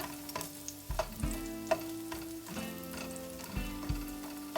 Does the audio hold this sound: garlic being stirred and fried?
yes